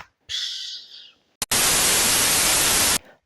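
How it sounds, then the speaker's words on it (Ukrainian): Loud, steady burst of white noise lasting about a second and a half, deliberately laid over the unboxing of a Barbie Arizona Jean Company doll, with a short bright rustle just before it and a fainter sound preceding that. "я тут зараз просто поставлю білий шум"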